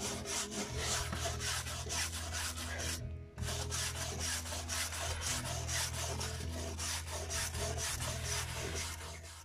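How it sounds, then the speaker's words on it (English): Steady, continuous scraping of charred wood as burnt decking boards are cleaned back in the shou sugi ban process, a close, loud rasping rub with a low hum underneath and one brief pause partway through, no talking. "And then scraping it all back, all the char that you create in the burning process."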